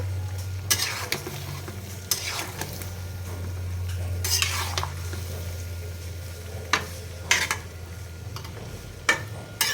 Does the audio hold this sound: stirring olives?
yes